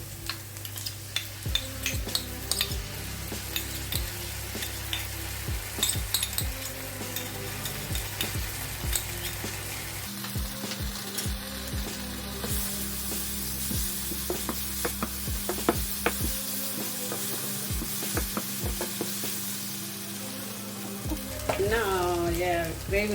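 Onions sizzle as they sauté with ginger and garlic in a pan, with frequent scraping stirs, a steady background hum, and a brief voice near the end.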